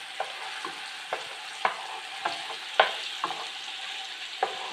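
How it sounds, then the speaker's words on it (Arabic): Onion and garlic fry in oil with a steady soft sizzle, while a spoon scrapes and stirs the pan in regular clicks about every half second. The sound is close, with no talking. "حطيت الزيت، بصله، ثوم، ونحرك حتى البصله تذبل وتبدل اللون تاعها"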